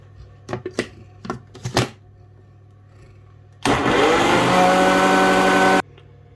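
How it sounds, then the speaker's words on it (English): A countertop blender whirs loudly for about two seconds, pureeing spinach stew ingredients with meat stock in a home kitchen; a few brief chopping knocks come first, and the steady motor roar then cuts off abruptly. "So I will be using some of the meat stock to blend it."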